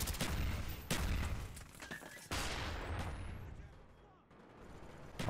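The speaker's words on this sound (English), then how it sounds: "I'm just shooting at this point." Rapid automatic fire from a Famas rifle in the video game Black Ops 1, loud bursts with a few sharp onsets and booming impacts, tapering off toward the end, with a voice speaking over it.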